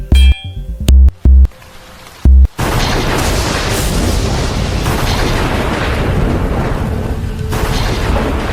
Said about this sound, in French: Cette explosion n'est pas qu'un accident.